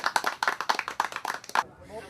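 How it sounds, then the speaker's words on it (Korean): Crowd hands clap in a quick, uneven rhythm at the 2008 Incheon Chinese festival after a sugar-painting demonstration, roughly a dozen sharp, close claps over under two seconds before stopping abruptly. "이만하면 박수 받을 만하죠?"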